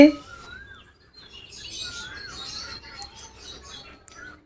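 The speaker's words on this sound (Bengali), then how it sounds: "ছাদে এসে শুনছি নানান রকম পাখির ডাক" Several birds chirp and whistle at a distance over quiet surroundings, heard from a rooftop, their calls overlapping in short bursts.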